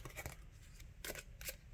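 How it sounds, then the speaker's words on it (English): A large deck of about 200 cards being shuffled close by, with a few short bursts of riffling and ruffling and no talk. "I'm really brave for shuffling these like 200 cards"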